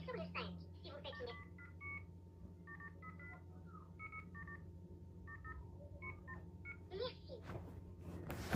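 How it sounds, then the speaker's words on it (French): A telephone keypad sends a run of DTMF dialing tones, short evenly spaced beeps for a debit or credit card number, heard over a faint line with a brief voice near the end. "Veuillez entrer le numéro de votre carte de débit ou de crédit."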